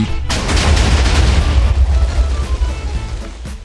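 A deep, rumbling blast erupts and rolls on for several seconds, a heavy booming explosion of 100 TNT blocks in Minecraft, with crackling debris settling afterward.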